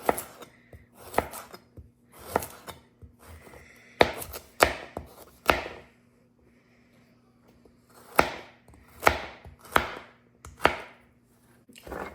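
Carrots sliced diagonally with a kitchen knife: crisp, close chops in quick rhythmic bursts, several strokes per burst, separated by short pauses and one longer gap.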